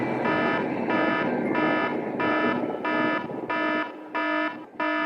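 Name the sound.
alarm clock alarm ringing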